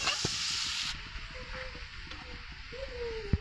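Grated taro fritter fries in oil in a pan over low heat, a soft continuous sizzle with light crackling and a brief scrape near the end, faint under a voice.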